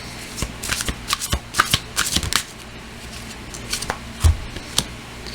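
Tarot cards being shuffled by hand in a reading: a close, steady series of crisp riffling and flicking bursts, with a few sharper snaps toward the end, no voices.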